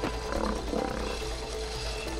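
A lion's roar in It Takes Two rumbles over a steady low background hum, one sustained growling call lasting a couple of seconds.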